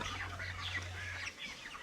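Broiler and Sonali chickens at a wholesale poultry market, steady soft clucking from a crowd of birds under a low hum, fairly faint and continuous.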